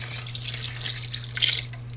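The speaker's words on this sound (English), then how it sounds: "So I'm just going to pour it over the cabbage rolls." Tomato juice sauce being poured over Hungarian cabbage rolls, a steady close liquid splashing and trickling for about two seconds over a low constant hum.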